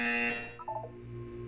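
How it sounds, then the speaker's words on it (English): In the video game Portal 2, a loud electronic buzzer drones for a moment, then breaks into a few short stepped tones before a low hum continues beneath, heard up close with no talking. "You will hear a buzzer."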